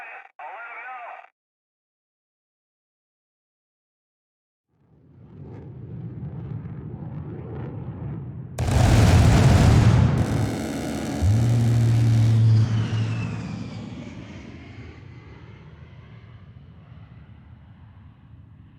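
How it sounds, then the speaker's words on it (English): A video game aircraft makes a strafing gun run: after a short radio-style voice and a pause, engine noise builds into a loud roaring burst of fire, then fades away. "Can you get air to do a gun run on this position?"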